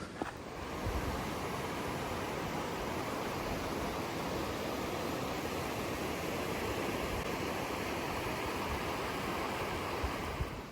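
A mountain brook runs close beside a High Uintas backpacking trail, giving a steady, loud, broadband rush of flowing water that holds constant throughout with no voices.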